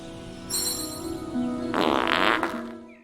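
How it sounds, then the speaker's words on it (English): A cartoonish fart from the video game Fable, a loud raspy blast of about a second that rises over sustained background music. "farting in people's faces"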